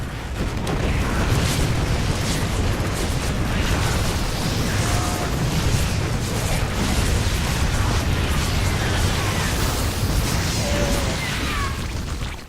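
Dense, continuous barrage of booming explosions and bursts from siege tanks firing in a StarCraft match, loud and sustained throughout with scattered whooshes and mechanical clatter layered on top.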